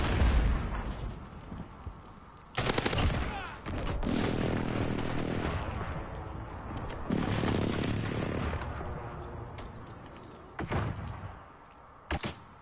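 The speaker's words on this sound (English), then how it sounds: "Friendly precision airstrike on the way" A precision airstrike lands in a shooter video game as a run of loud, booming blasts and crackling bursts arriving in separate waves, with quieter rumbling stretches between them.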